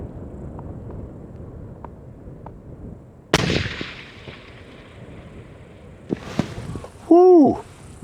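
A single sharp hunting rifle shot cracks at an outdoor shooting range amid low background noise, followed by a faint distant echo and some small knocks.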